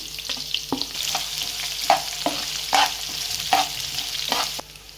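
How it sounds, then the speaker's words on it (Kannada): Onion, green chili and garlic frying in a pan for banana flower palya, a soft continuous sizzle broken by a regular series of sharp spatula stirring scrapes. "ಆಗಲಿ ಚೆನ್ನಾಗಿ ಫ್ರೈ ಆಗಲಿ"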